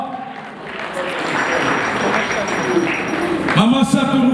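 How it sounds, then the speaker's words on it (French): A crowd at a birthday party breaks into sustained applause and cheering after a champagne glass auction bid, loud and close, with a voice speaking over the clapping near the end. "Madame, est-ce qu'on peut acclamer très fort ce soir?"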